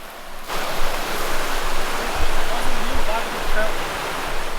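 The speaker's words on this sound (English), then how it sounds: "This is a new river again." Rushing water of a new river channel carved by Hurricane Helene flooding, a steady broadband roar that runs continuously and fairly loud with no talk over it.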